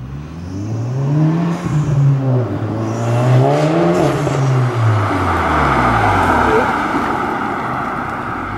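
Armytrix exhaust on an MK7 car revving and accelerating, a loud close engine note rising and falling in pitch in several swells before settling into a steady drone.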